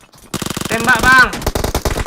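Rapid automatic gunfire from PUBG Mobile rattles in dense, loud bursts after a short quiet start, with some shots heard under a voice in the middle.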